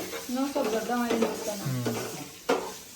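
Green chillies sizzle in a hot pan for chutney, a steady close frying hiss broken by a spatula clinking against the pan, while a voice talks over it.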